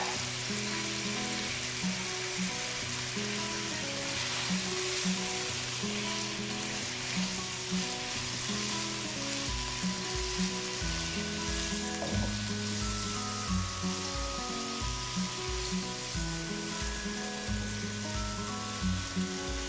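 Garlic ginger paste frying in hot oil for Kashmiri pulao, a continuous loud sizzle with steady crackling, close up, while other pitched sounds play quietly underneath.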